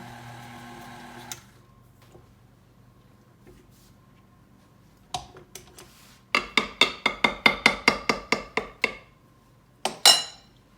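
Two spoons scoop egg batter into a popover tin for Passover popovers, making a quick run of bright metallic clinks in an uneven rhythm, then a couple of louder taps after a pause, close by.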